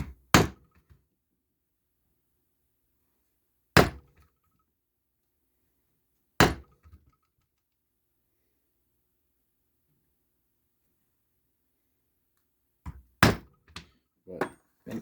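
A one-prong leather chisel struck to punch stitch holes in a leather western gun belt, making sharp, separate thuds with long quiet gaps between them, ending in a quicker cluster of blows.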